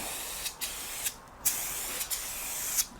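Aerosol spray cans put paint on a 1956 Chevrolet hot rod in short bursts of close, loud hissing, several sprays starting and stopping in uneven rhythm with no talk.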